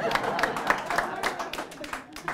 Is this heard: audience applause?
yes